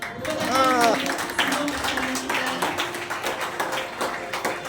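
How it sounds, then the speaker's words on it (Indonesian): Wedding guests applaud a blessing ceremony for a vow renewal, a steady patter of clapping with voices talking over it early on and a tonal sound at the start. "Tepuk tangan ya."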